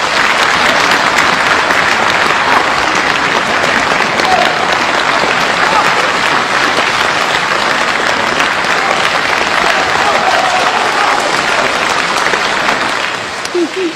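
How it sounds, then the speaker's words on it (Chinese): A large theatre audience applauds continuously to welcome Peking opera artist Mei Baojiu, a loud dense wash of clapping that holds steady throughout before easing at the very end. "掌声欢迎梅葆玖老师"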